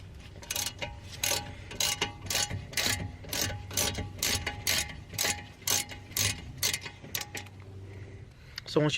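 A 7mm Allen tool works a brake caliper bolt loose on a BMW 335d E90. It makes a rapid, steady run of close metallic ratcheting clicks, then ends with a brief clank.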